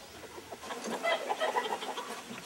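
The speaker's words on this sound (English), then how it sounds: "just grab that chicken" Chickens cluck and squawk in a farmyard, a flurry of busy, overlapping fowl calls that swells in the middle and carries on steadily, fairly close and moderately loud.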